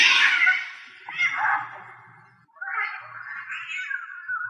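A cat screeches in loud, harsh drawn-out caterwauls, two long wailing cries separated by a brief pause, close and alone with no talking.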